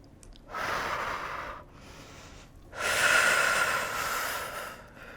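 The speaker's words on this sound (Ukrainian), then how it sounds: "Робіть видих в уявну трубочку." Strong, breathy exhalations forced out through pursed lips during an inner-thigh leg workout without equipment, with two long, loud blows separated by a short pause and no talking.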